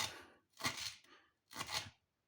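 Knife blade chopping fresh dill finely on a cutting board, in two quick bursts of crisp, rapid chops separated by short pauses, close and clear with no talking.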